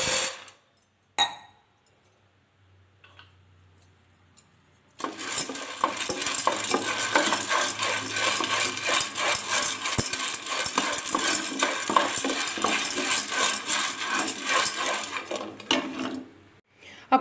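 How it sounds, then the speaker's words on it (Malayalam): A glass of green peas roasted dry in a pan, stirred with a spoon, a continuous rattling, scraping patter that starts after a few quiet knocks and runs loud and steady to the end. "അടുത്തായിട്ട് നമുക്ക് വറുത്തെടുക്കേണ്ടത് ഗ്രീൻ പീസാണ്."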